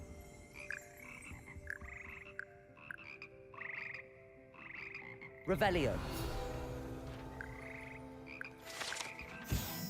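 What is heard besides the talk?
Frog Choir frogs croaking in Hogwarts Legacy video game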